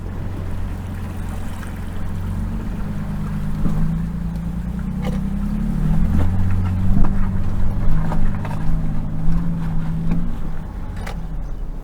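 A 2023 Toyota Sequoia TRD Pro rolls slowly through a deep water pool on an off-road course, its steady low engine rumble mixed with sloshing and splashing water, sustained and close throughout.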